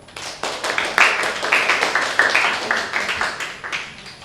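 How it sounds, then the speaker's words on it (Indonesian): A classroom group claps hands during a Japanese-language microteaching lesson, a few seconds of uneven, fairly sparse claps close by with no talk over them. "Beri tepuk tangan dulu."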